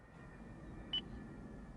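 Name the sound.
beep from car voice command system, Lexus GS 450h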